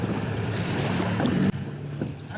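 Small boat rocking and shaking in choppy high-tide waves while reversing, with steady wind and water wash close to the microphone and a low hum underneath, briefly dipping midway.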